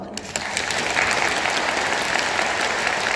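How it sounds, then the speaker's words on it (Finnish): A studio audience at an interview event with an anime artist breaks into sustained applause, dense and loud clapping that swells after a moment and continues evenly throughout, with no talk over it. "aplodit."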